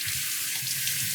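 Water runs from a tap to bathe a dog, a steady hiss and splash heard close and alone for about a second.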